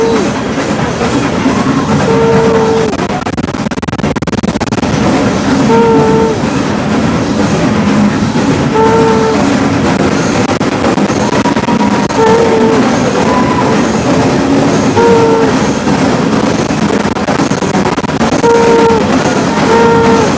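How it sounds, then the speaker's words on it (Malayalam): A Nilgiri Mountain Railway train rumbles steadily into a tunnel while passengers let out repeated whooping hoots at a regular rhythm over the continuous clatter of the carriages. "ട്രെയിൻ ടണലിൻ്റെ ഉള്ളിൽ കയറുമ്പോൾ എല്ലാവരും കൂകുന്നത് എന്തിനായിരിക്കും?"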